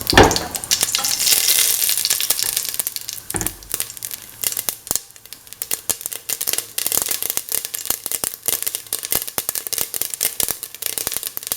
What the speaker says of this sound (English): Once the mustard seeds pop